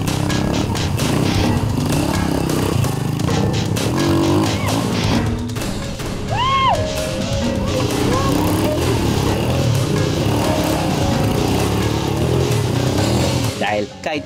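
Motorcycle performing stunts in Bustos, Bulacan, its engine loud and close, revving and surging with rising and falling pitch while people talk over it.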